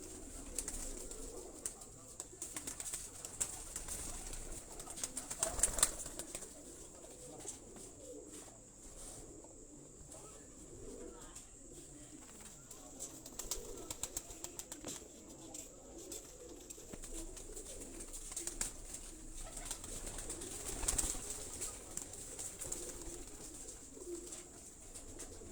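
Homing pigeons belonging to Ustad Ashiq Hussain's loft coo softly on a rooftop in Kadianwala, a low steady murmur with occasional louder coos over faint outdoor background noise.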